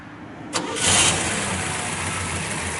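A 1969 Chevrolet Chevelle COPO 427 with a solid-lifter V8 cranks briefly, fires, and surges into a loud rumbling idle, heard close and alone.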